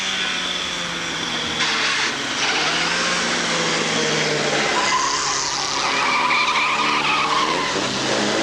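Pre-war Austin 7 race cars of the 750 Motor Club skid and brake into a hairpin in heavy traffic at a racing meeting. Engines drone loudly and continuously with tire squeal throughout, close and full, with no speech.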